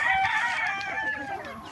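A rooster crows once in a long, drawn-out call, fairly close and clear over a quiet background.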